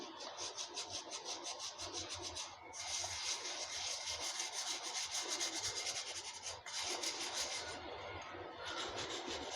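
A clay water pot is scrubbed gently by hand to remove dust and surface clay, producing a continuous soft rubbing rasp with a brief pause or two, faint and close, with no talking.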